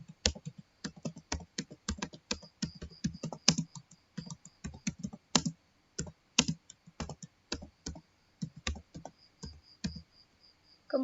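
Keys clacking on a computer keyboard as a file name is typed into a save dialog, a steady run of close, crisp clicks in uneven bursts with brief pauses and no talking.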